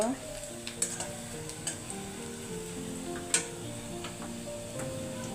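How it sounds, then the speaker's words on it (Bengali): Dal tempered with a baghar sizzles steadily in a pan, with a few light taps and clinks of a utensil against the pot and a faint voice or tone humming underneath. "ডাল হয়ে গেছে এখন বাগার দিয়ে নামিয়ে নিব"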